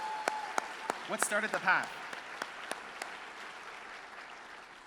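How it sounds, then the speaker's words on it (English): A handful of separate, crisp hand claps ring out at irregular intervals, quiet and close, with a brief spoken question in the middle. "clap it up"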